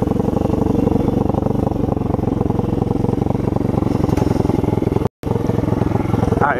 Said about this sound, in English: You can hear when I let go of the gas and when I upshift.